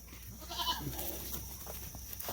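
Goats bleat close by in a barn while hay is put in with them, a short nasal bleat over a faint background murmur.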